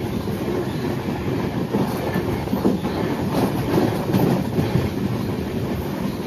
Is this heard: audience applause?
no